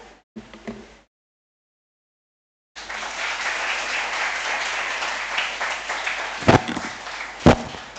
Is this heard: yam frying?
no